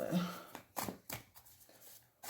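Brisk papery riffling of a tarot deck being shuffled, several quick bursts close up, with a voice speaking over parts of it.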